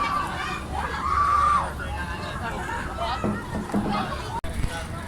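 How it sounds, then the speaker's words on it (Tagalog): Riders scream on an upside-down amusement park ride, a high rising scream over nearby crowd chatter and a close voice talking. "Grabe yung sigawan."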